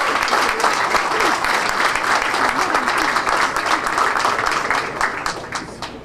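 An audience at an evening event in New York gives sustained, dense applause, loud and continuous throughout before tapering slightly at the end.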